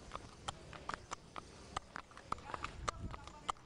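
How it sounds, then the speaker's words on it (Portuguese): Hooves of a mounted police riot-squad horse clip-clop at close range in an irregular series of sharp knocks, with occasional snorting and sniffing between the steps. "É um cavalo de dentro da polícia"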